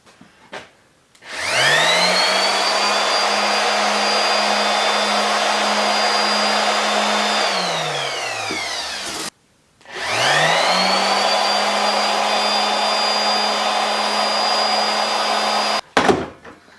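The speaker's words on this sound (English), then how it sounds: "Let's try the sander, see how much that pulls." An electric sander running on a DABBSSON 600L compact portable power station gives a loud, steady motor whine. It spins up and runs twice, winding down audibly at the end of the first run, with no talk.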